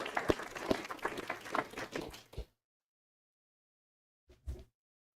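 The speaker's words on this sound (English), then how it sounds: "So can we just give them another round of applause?" Applause for a track and field team at a school board meeting: a short patter of clapping that stops abruptly, then silence broken by one brief thump.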